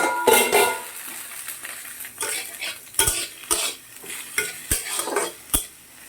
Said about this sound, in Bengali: এদিকে আলু ভাজাটা বসিয়ে রেখে গেছি দেখি কত দূর কী